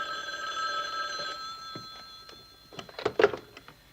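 A telephone rings in a steady electronic trill that cuts off, followed by rustling and handset clatter as it is picked up, fairly close and without talk.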